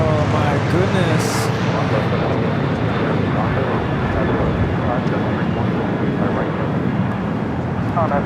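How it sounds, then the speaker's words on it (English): Delta airliner taking off from a runway at LAX, a steady broad roar of jet engines heard from a distance, with people talking over it throughout. "Oh, that's Delta 25 right to takeoff on the 21"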